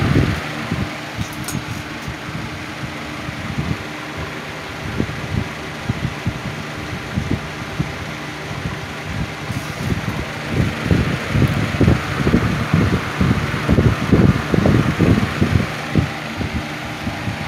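A 1980s Patton box fan running on high, a steady close whooshing drone with rhythmic low thumping pulses from the blades, growing slightly stronger toward the end.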